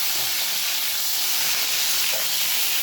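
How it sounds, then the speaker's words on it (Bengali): Cauliflower frying in hot oil in a pan, giving a steady, dense sizzling hiss that runs unbroken and fairly loud throughout, with no talking. "পুরো লাল লাল করে ফুলকপিটাকে আমি ভেজে নিচ্ছি"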